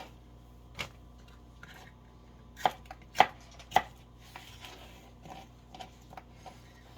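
Knife on a cutting board chopping slick sweet peppers, a handful of sharp close taps spread irregularly, the strongest clustered in the middle, over a quiet background.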